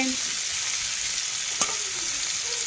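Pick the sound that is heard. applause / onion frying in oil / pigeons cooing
onion frying in oil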